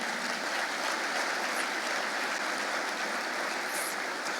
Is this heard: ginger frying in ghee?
no